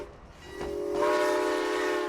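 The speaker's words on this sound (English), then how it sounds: "antique rail cars pulled by hard-working steam and diesel locomotives" An antique narrow-gauge locomotive on the Maine Narrow Gauge Railroad in Portland sounds its horn, a sustained, loud, multi-tone blast that swells after a brief lead-in of rail noise.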